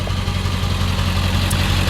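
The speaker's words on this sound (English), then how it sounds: "Look at that exhaust system. Ridiculous. The sound that this thing makes." A 1999 Ford F350 Lariat Super Duty diesel dually pickup with an aftermarket exhaust idles close by, giving a steady, loud, low rumble with no pauses.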